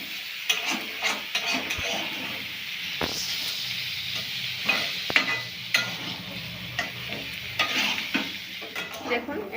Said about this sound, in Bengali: সিদ্ধ করে রাখা এঁচোড় ও আলুটাকে আমরা একটু ভেজে নেব